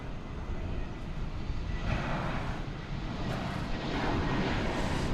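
A Frontier Airlines plane at DFW Airport at night gives a steady broadband engine roar, loud and sustained, swelling slightly as it passes, with no talking.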